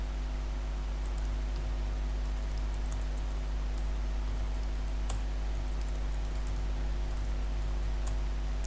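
Someone types text into Microsoft Word on a computer keyboard, a faint run of irregular small key clicks over a steady low electrical hum.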